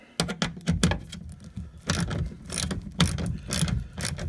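A ratchet loosens an 8mm screw on the door panel of a 1997 vehicle, giving close, crisp bursts of clicking in repeated strokes with short pauses between them and no talk.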